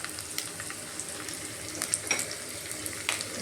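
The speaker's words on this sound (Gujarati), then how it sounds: "તેલ ગરમ થાય એટલે આપણે સૌ પ્રથમ ફણસીને ગાજરને ફ્રાય કરવાના છે." French beans and carrots frying in hot oil for a Gujarati mixed vegetable sabzi, giving a steady close crackling sizzle with a few sharper pops and stirring clicks.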